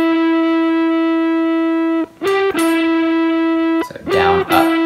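Electric guitar playing part of a song, sustained clean picked notes ringing steadily, broken by quick muted strums and note changes near the two- and four-second marks, heard alone at close range.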